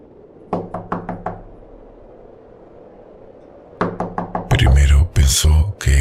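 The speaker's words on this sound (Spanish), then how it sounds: "el golpeteo en la puerta era demasiado insistente, demasiado real" Insistent knocking on a wooden door at night, with two rapid series of about five sharp raps separated by a pause, followed by louder heavy thuds and dense noise, all loud and close.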